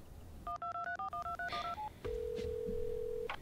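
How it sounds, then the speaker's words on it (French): An iPhone places a FaceTime call after a Siri voice command, with a quick run of touch-tone dialing beeps followed by a long steady ringback tone. It is close and clear, with faint background noise and no speech. "Siri, rappelle Suzanne, cellulaire, FaceTime"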